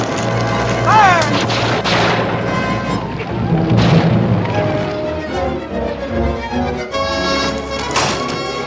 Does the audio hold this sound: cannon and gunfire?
yes